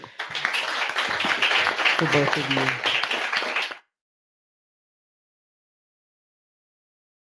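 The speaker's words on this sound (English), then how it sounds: "I just want to give another round of applause" Applause from an evening audience at an event on the political history of ACT UP New York, a dense wash of clapping for several seconds with a voice speaking over it, then stopping abruptly into silence.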